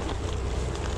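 Wind blows outdoors in a continuous, close rush of gusty noise buffeting the microphone, with no other sounds over it.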